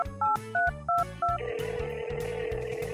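A telephone call to an antenna seller rings out in a short repeated two-tone electronic ringing pattern, followed by a steady sustained tone, with no talk.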